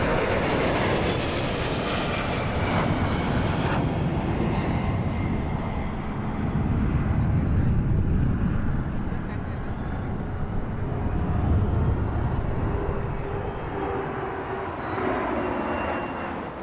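Sukhoi Su-30 fighter jets fly over the Republic Day parade. Their engines make a powerful, continuous roar that swells and fades across the sky, loud and broad, with no speech.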